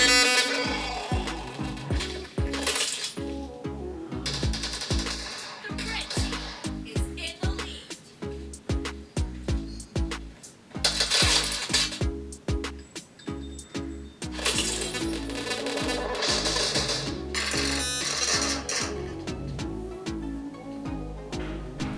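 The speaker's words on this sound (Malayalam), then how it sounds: "ഇപ്പോൾ നമ്മൾ നോർമലായിട്ട് ഫോണിൽ PUBG കളിക്കുകയാണ്" Busy PUBG Mobile gameplay audio plays from a phone that is overheating and lagging, a dense stream of game music, clinks and effects with repeated punchy hits. The sound stays loud throughout with a few brief dips.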